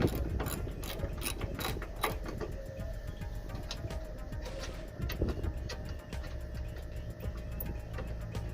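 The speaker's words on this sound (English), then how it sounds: "you're gonna need a 10mm deep socket for this guy. Just to break that." A ratchet fitted with a 10mm deep socket works a bolt loose on a 2008+ Scion xB, giving repeated close clicking pawl ratchets in quick bursts with metallic handling noise between strokes.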